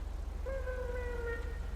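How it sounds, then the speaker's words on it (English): A manual emergency vehicle siren in a video game sounds as one steady, clear tone lasting about a second over a low, constant engine rumble, with no talking. "If you hold it down, it'll give you a siren."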